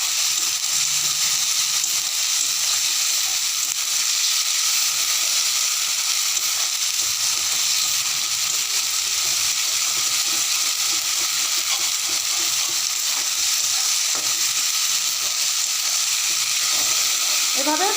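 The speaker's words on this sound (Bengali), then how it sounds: "এখন পেঁয়াজের সাথে আমি ভেজে নেব, ভালো করে কষিয়ে নেব" Onion and spice paste cook in a pan for a soybean dish, a sustained bright sizzle with steady stirring scrapes and crackles running throughout, close up and without voices.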